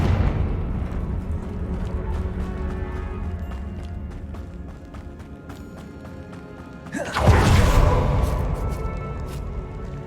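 A Confringo fire blast spell in Hogwarts Legacy goes off about seven seconds in as a loud, sudden broadband whoosh and boom, rising sharply over steady game ambience and then slowly fading away.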